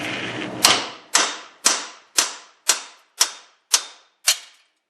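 A hammer strikes the front wheel hub of a 2003 GMC Jimmy eight times in a steady, evenly spaced rhythm, each a sharp, bright metallic clang with a short ringing decay, loud and close with no talk.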